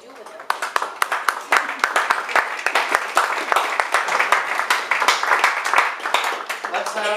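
Lecture audience at a Lenten lecture series on iconoclasm applauding after a talk, a sustained burst of many hands clapping for about seven seconds, starting with a few scattered claps and swelling to full applause.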